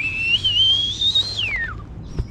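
A single clear whistle drifts slightly upward, then slides down and fades, near and loud over faint outdoor background while bass fishing with frog-style toad lures.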